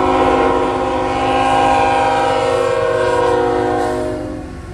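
A very long M410 freight train from Waycross, GA to Selkirk, 476 axles long, passes Hannacroix with a loud, sustained multi-tone horn over rumbling wheels, fading toward the end.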